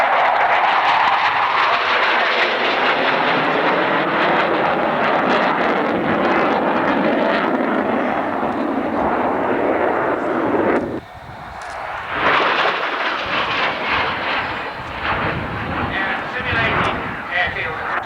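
A Tornado jet at the Alconbury airshow roars overhead in a loud, sweeping pass. The roar shifts and dips partway through, and a commentator's voice runs underneath.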